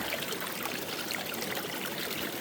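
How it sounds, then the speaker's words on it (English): Water drains from a pond through a 4-inch ABS pipe, a steady close rushing and trickling flow with a constant, even hiss and no pauses. "I'm going to go down below and open the main valve to drain this"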